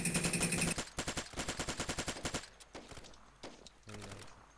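Rapid bursts of automatic gunfire in a shooter video game, loud and close, several rattling volleys in quick succession before thinning into scattered shots and faint background noise.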